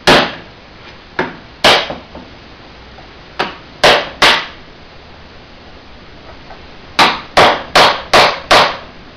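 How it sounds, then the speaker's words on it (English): Hammer blows on a steel chisel splitting open the head of a General Electric X-ray machine: sharp metallic strikes, a few scattered singles, then a quick run of five near the end, loud and close. "I'm just going to take the chisel."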